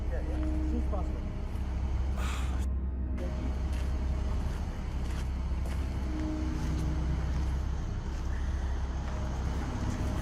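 A car engine idles with a steady low rumble inside the vehicle, continuous throughout, while people talk over it.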